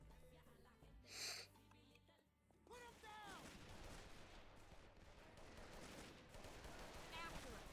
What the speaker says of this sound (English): This is the weakest sounding Desert Eagle I've heard in my life.